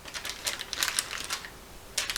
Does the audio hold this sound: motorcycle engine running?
no